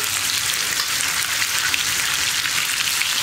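Chopped onion sizzles and fries in coconut oil in a pan, a loud, steady close crackle with no pauses or voices.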